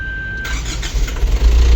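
A 2026 Foton M290T milk tanker truck's engine cranks and catches with a loud, low rumble that roughens and swells, following a brief steady beep.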